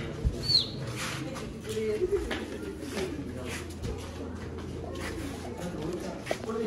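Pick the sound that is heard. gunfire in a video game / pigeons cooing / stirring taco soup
pigeons cooing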